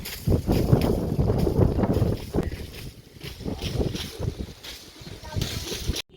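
Wind gusts across a microphone outdoors in a village, low rumbling buffets that come and go in bursts, loud and close, with voices faintly present.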